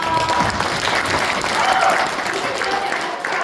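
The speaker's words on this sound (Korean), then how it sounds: "두 분께 박수 부탁드립니다." Audience applause at a regional policy forum in Gunwi County, Daegu, a steady, dense wash of many hands clapping that fills the hall without a break, loud and close, with no speech over it.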